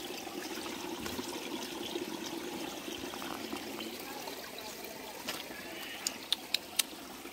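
A small stream trickling steadily, with soft continuous water babble close by and a few sharp clicks near the end, no voices over it.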